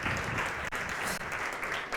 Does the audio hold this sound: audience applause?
yes